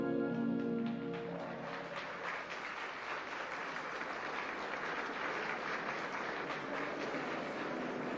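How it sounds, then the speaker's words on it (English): Dense, steady applause fills the end of The Shining's closing credits, rising just as a song's final sustained notes fade out, then continuing evenly at a moderate, somewhat distant level. "after it ends, we get applause and then a crowd of people chatting"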